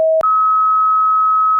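1280 Hz sine test tone holding steady and loud for about a second and a half, just after a short lower beep cut off by a tiny gap.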